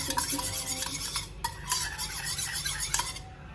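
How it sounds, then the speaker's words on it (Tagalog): Ingredients for a baked sushi mixture are stirred together in a bowl, giving steady scraping and clinking of a utensil against the dish with a few sharper knocks, close and fairly loud, with no voices. "And then, mix."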